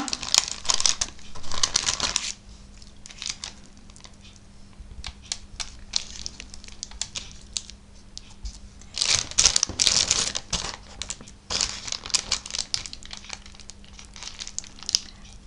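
Baking paper crinkles and rustles while a cheese roulade with pepper is rolled up by hand, loud crackling bursts at the start and again midway, with quieter scattered rustles between.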